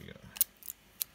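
Scissors snip open gachapon capsule toy packaging in a few short, sharp cuts spread across about a second, faint and close, with a brief voice heard at the start.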